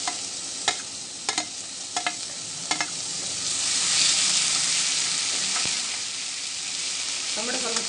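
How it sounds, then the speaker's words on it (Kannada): Tomatoes and onions sizzle steadily in a hot pan for an egg curry while a utensil stirs them, giving several sharp scraping clicks early on over a continuous close frying hiss that swells in the middle. "ಟೊಮೆಟೊ ಸ್ವಲ್ಪ ಫ್ರೈ ಆಗುವವರೆಗೂ ತಿರುಗಬೇಕು"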